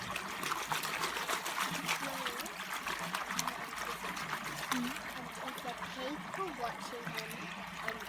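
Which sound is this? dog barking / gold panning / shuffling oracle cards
gold panning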